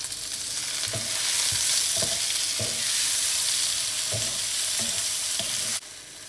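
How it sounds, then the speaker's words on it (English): Tomatoes hit hot oil in a pan for prawn biryani, a loud bright sizzle that runs unbroken, punctuated by regular knocks of a spoon stirring, then drops off near the end. "now I'm adding tomatoes"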